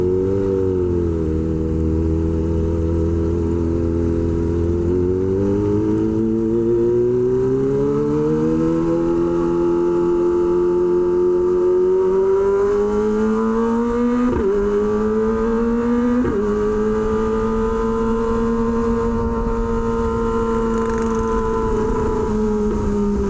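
A Kawasaki Ninja ZX-25R motorcycle fitted with an SC Project H2 exhaust revs and accelerates through rising gears, a loud, steady high-pitched inline-four wail with brief dips at shifts, close and alone.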